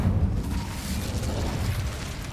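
Incendio fire spell cast in the Hogwarts Legacy video game, a dense, sustained roaring burst of flame that stays loud and steady throughout, with no speech.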